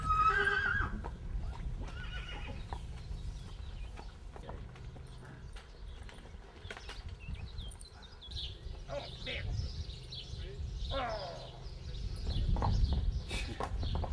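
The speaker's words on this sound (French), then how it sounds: "on utilise encore les chevaux de trait pour le débardage en forêt" Belgian draft horses used for forest logging in the Ardennes, neighing and whinnying with clip-clopping hooves nearby, birds calling in the background and some talk mixed in.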